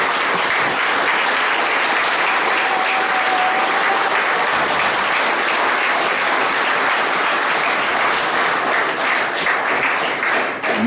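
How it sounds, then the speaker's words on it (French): Loud, sustained audience applause fills a public gathering in Cayenne, French Guiana, a dense wash of clapping and crowd noise that stays steady for about eleven seconds before easing slightly at the end. "je vous demande s'il vous plaît de les applaudir fortement"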